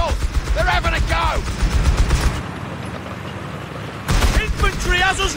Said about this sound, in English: Enemy rifles. They're having a go.